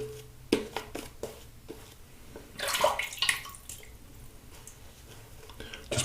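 Water is added to Sebum Blue shave soap while a brush lathers it, giving a brief close splash and wet dribble amid soft intermittent clicks and squelches.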